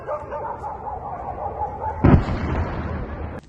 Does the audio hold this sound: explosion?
yes